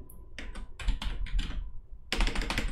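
Typing on a computer keyboard up close, crisp clicking keystrokes in short bursts and a brief pause before a rapid final flurry, with no voices.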